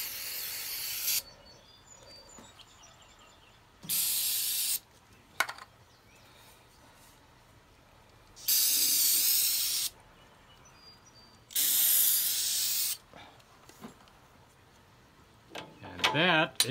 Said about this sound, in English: Let's spray this down here with silicone lubricant.